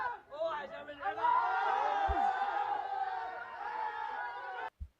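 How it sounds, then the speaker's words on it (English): A crowd cheering and shouting during a drone strike, a dense sustained roar of voices with whoops and excited chatter, loud and continuous before cutting off abruptly near the end. "You notice how in every video people are cheering"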